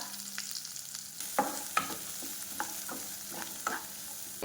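Peppercorns, bay leaf and finely chopped onion fry in hot oil in a kadhai on a gas stove for methi matar malai, a close steady sizzle punctuated by several sharp scrapes and clacks of stirring.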